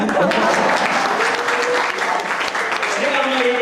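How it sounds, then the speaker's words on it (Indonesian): Loud, sustained applause from a crowd of young students at a school program outreach event, dense and continuous, with voices mixed into the clapping. "boleh tepuk tangan."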